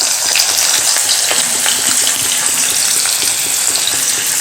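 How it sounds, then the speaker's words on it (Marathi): Onion fries in hot oil after cumin has crackled for a spicy moth bean dal amti, giving a loud, dense and continuous sizzle close by with faint stirring. "जिरं छान तडतडलं की यामध्ये कांदा घालायचा"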